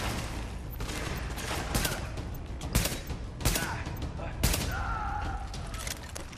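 Gunfire in The Division plays as a dense, continuous fusillade with several louder shot bursts standing out, mixed with game sound effects.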